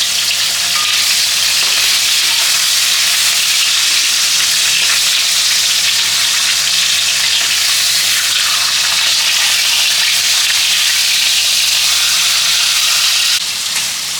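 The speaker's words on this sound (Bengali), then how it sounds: "সুন্দর করে ভেজে নিই" Fish frying in hot oil in a kadai for a Bengali fish curry, a loud, dense, continuous sizzle heard up close for the whole stretch, with no voices over it.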